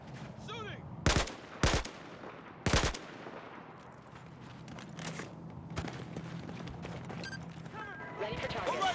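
Battlefield 4 gunfire: three loud, sharp separate shots early on, then quieter scattered distant pops and rumbling battle noise, with voices talking underneath.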